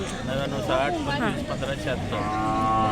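Bulls lowing amid a noisy weekly bull market at Belhe, Maharashtra, several drawn-out moos rising over a steady hubbub of crowd chatter and background noise.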